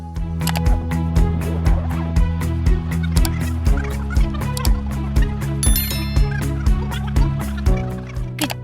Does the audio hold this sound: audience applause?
no